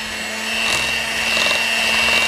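Electric hand mixer beating an egg into apple cider pound cake batter in a bowl, a steady close whirring drone that holds even and continuous for the whole stretch with no talk.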